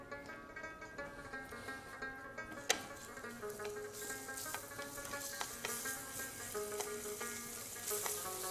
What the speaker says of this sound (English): So we're going to fry the beef first.